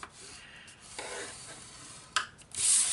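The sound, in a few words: scoring cardstock along the sides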